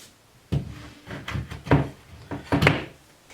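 Wooden display showcase pieces knock and thunk together as two panels are slid onto cam pins, a series of about five hollow wooden bumps and scrapes, close and moderately loud.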